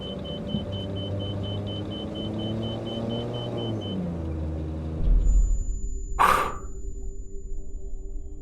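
Pitts Special aerobatic biplane engine run up to full throttle, a steady droning rumble that swells and roughens as power builds, then a sharp burst of wind noise across the microphone.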